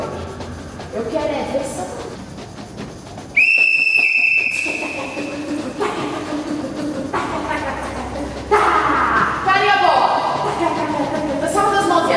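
A sharp, steady referee-style whistle blows once for about a second as a signal, loud over lively talk and background commotion, with voices continuing around it.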